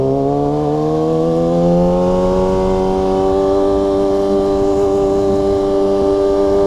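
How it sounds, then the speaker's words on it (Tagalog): A Kawasaki ZX6R motorcycle engine revving during a rev-matched downshift, a loud, close whine that climbs steeply in pitch and then holds a high, steady note, with no talking. "Wala po tong autoblip, no? Rev match po yung ginawa natin"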